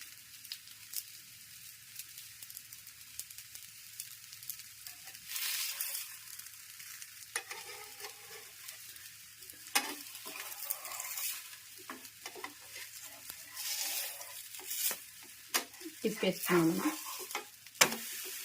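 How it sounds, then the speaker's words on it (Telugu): Bobbatlu flatbread roasts on a pan over a high flame, a soft sizzle with occasional scraping and stirring noises, close by and fairly quiet, with brief louder spells of frying. "హై ఫ్లేమ్లోకి పెట్టుకొని కొంచెం కాల్చుకోవాలండి."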